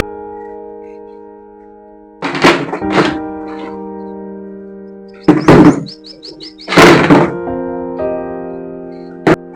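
Several heavy wooden thunks as chairs are set down on a hard floor, in two pairs with pauses between, over a steady background hum.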